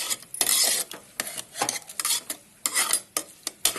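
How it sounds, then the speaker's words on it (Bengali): Spoon scraping and stirring in a pan as a mocha mixture is sautéed with coconut milk, a run of irregular bursts of scraping and sizzle with short pauses, close up and without talk. "ভালো করে একটু এটাকে কষাতে হবে"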